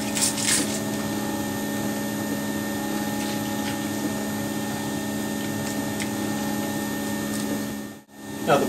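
A 20-inch f/4.5 telescope mirror spinning on a polishing turntable beneath a pitch lap during rough polishing, a steady loud motor-like hum with faint rubbing, a brief dropout near the end.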